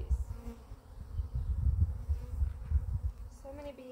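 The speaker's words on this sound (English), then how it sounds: "There are a lot of bees." Honeybees buzzing during a hive inspection, a dense close low hum of many bees with fluctuating loudness, joined by a few higher insect whines near the end.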